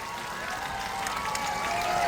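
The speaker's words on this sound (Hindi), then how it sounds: "एक बार जोरदार तालियां बजाओ नरेंद्र मोदी जी के लिए" Crowd at an election rally in Darbhanga, Bihar, claps for Narendra Modi, a fairly faint, continuous patter of applause with murmuring and some cheering underneath.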